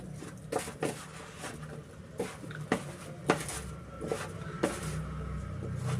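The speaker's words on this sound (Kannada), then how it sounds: "ಚೆನ್ನಾಗಿ ನಾವು ಕೈ ಹಾಕಿರ ಚೆನ್ನಾಗಿ ಮಿಕ್ಸ್ ಮಾಡ್ಕೊಳ್ಳೋಣ" Mango pickle stirred by hand inside a metal vessel, coating the pieces in spice powder: soft, irregular clunks and scrapes against the pot, close and moderately quiet, with no talking.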